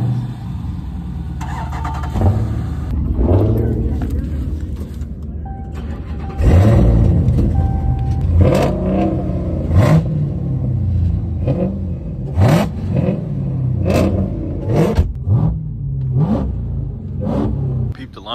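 Car engine with a burble tune at a cider mill meet, starting up and revving in repeated throaty bursts with popping crackles between pulls, loud and close, while people talk and exclaim over it.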